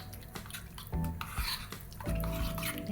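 Raita being stirred in a bowl with a spoon, with repeated close clinks and scrapes of metal against the dish over a few seconds, loud and near, with no talking.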